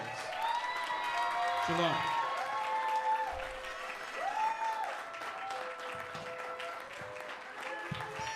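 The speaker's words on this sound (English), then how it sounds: "Let's give them a round of applause." A church congregation applauds steadily throughout, a dense wash of clapping beneath a voice speaking and singing tones over it, with some cheering mixed in.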